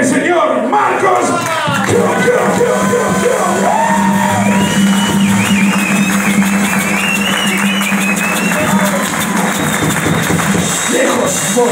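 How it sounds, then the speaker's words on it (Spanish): Audience at the closing night of a 2017 harmonica festival cheering, whooping and shouting over applause, a loud sustained crowd roar with individual yells rising out of it. "el aplauso más grande de la noche"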